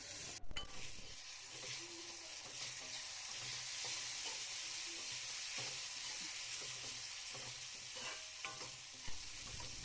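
Soaked moong dal stirred with Malvani masala and turmeric in a pan gives a steady sizzle, with frequent close spoon scrapes and clacks running through the whole stretch.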